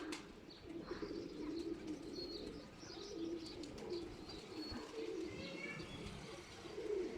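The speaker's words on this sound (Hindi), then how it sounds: "मस्तियाँ करके उड़ रहे हैं कबूतर" Pigeons coo and flutter nearby, wings flapping in short bursts over a steady outdoor background.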